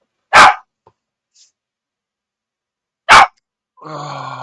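A puppy gives two loud, sharp barks a few seconds apart indoors, with near silence between them and a softer, rougher sound at the end.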